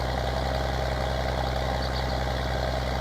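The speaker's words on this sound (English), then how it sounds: "This tractor is awful loud." A loud tractor engine in the Farming Simulator 19 video game, running with a steady, droning rumble that stays constant and close throughout, with no voices over it.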